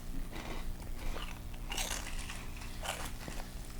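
Someone bites into and chews crunchy Korean snacks up close, giving a series of soft, irregular crunches over a few seconds with no talking.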